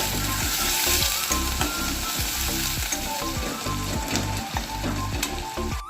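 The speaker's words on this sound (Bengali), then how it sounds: "পেঁয়াজটাকে আমি হালকা ভাজা ভাজা করে নেব।" Chopped onion fries in hot oil, a dense loud sizzle overlaid with rhythmic scraping of a spatula stirring the pan, with no talking.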